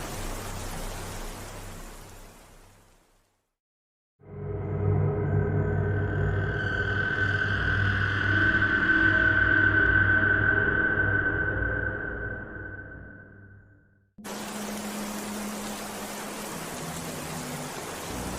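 Steady rain hisses for a few seconds, then drops out; a long swelling tonal drone takes over, and the rain hiss returns at the end.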